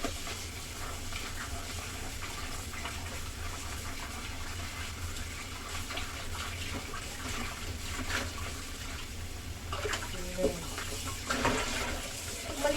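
Water from a tap runs steadily over chicken wings being rinsed in a sink, a continuous wash of splashing with a few louder splashes near the end.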